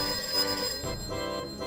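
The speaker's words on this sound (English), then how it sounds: "There's quite a lot of phone ringing at the top of this." A telephone rings in a radio play set in a domestic kitchen, a bright continuous trilling bell ring heard up close, loud and alone.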